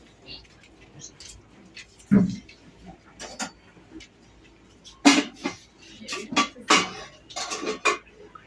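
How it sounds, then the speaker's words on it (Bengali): Dirty dishes and pots being scrubbed and handled in a sink basin, clattering and clinking in uneven bursts with people talking over them. "ওই এটো বাসন এই বেসিনে রয়েছে এটো বাসনগুলো মাজবি"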